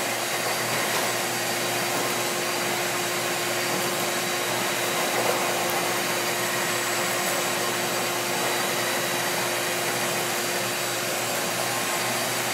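A vacuum hose sucks dust from a bucket of Buddy Rhodes concrete mix, giving a loud, steady, unbroken whooshing drone up close the whole time.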